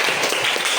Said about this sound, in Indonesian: Kalian tepuk tangan untuk teman.